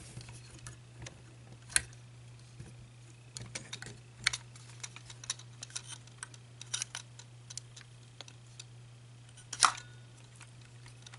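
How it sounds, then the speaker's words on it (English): Plastic parts of a FansToys Quakewave Shockwave transforming figure click and snap as they are folded, with sparse sharp ticks scattered over quiet moments and a low steady hum underneath. "This whole chest is gonna fold down. That'll allow us to fold the head in."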